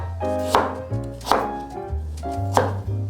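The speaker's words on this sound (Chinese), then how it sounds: "把地瓜先切一半，再切片，这样子切片就比较省力。" A knife cuts through halved sweet potato on a board in a vegan kitchen, giving three distinct firm chops with crunchy slicing strokes in between, close and clear with no talking.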